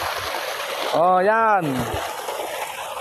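Water pours steadily from a hybrid solar pump in a constant broadband rush, with a brief spoken word rising over it midway.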